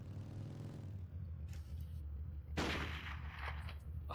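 A sniper rifle in a video game fires one sharp, fairly close crack midway through, rising out of a steady low engine-like hum.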